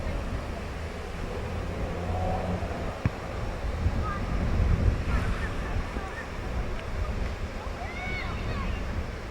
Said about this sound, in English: Very windy, as you can see from the trees out there at the moment.